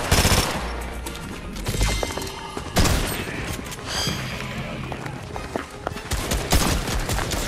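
Rapid automatic gunfire and bursts of shots from the video game Fortnite, loud and dense throughout, with sharp booming impacts and brief pauses between volleys.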